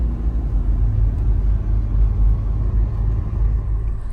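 A car drives along a road on the way to Koblevo, giving a steady, loud, close low rumble of engine and tyres that runs unbroken from start to end.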